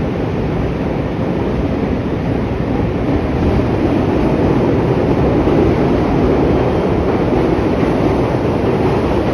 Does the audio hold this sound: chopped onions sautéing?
no